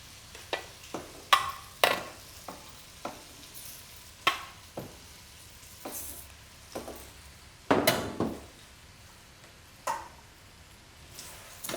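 Fish bones and sweated vegetables are stirred in a stock pot while making white fish stock. Irregular knocks and scrapes of a spoon against the pot sound up close over a faint low sizzle, with no talking.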